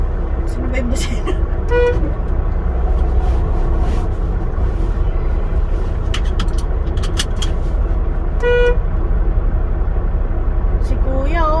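Several short horn honks from a truck in traffic in Alberta, sounding over a loud steady engine drone inside the cab.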